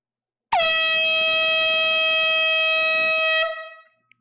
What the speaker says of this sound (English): Here comes the air horn.